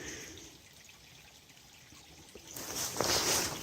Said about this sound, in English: there's a little stream running at the bottom